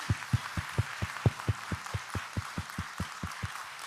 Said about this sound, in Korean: 이분들을 위해서 하나님과 이분들을 위해서 박수 먼저 합시다